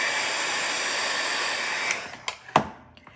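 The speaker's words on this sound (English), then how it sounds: "that's why I'm using my little heat gun here, because I really want to make sure" A small heat gun blows over a watercolor painting to dry the paint, a steady airy whir that runs for about two seconds, then cuts off, followed by a few faint taps and clicks.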